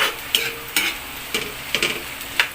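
Garlic, onion and tomato sautéing in cooking oil for a seafood kare-kare, heard as a close, steady sizzle broken by sharp spatula scrapes and stirring knocks every half second or so, with no talking.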